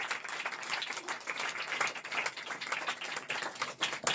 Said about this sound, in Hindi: ये सब छोटे छोटे बच्चों के लिए तालियां बजाएंगे